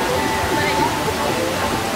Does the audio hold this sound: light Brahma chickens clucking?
no